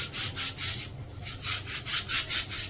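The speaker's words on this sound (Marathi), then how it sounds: "बाहेरच्या साईडनं सुद्धा बघा मी मिठानेच घासून घेतली" A clay water pot is scrubbed with salt in close, brisk back-and-forth strokes, making a rhythmic gritty rasping of about a dozen strokes with no talking.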